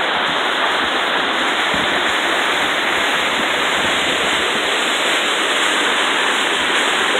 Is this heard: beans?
no